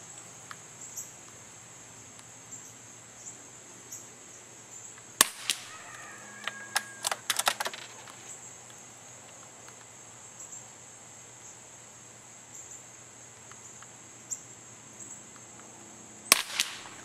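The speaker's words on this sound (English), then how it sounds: "I'm going to run a 10-round group with CCI subsonic." Tikka T1x rifle firing CCI subsonic rounds in a ten-shot group: a handful of sharp, fairly quiet cracks clustered in the middle, one more near the end, over a steady insect-like background hum.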